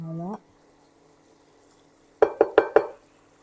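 Homemade pepper sauce is stirred in a pan: a brief voice at the start, then a quiet pause, followed by four quick, sharp utensil scrapes and knocks in a fast rhythm.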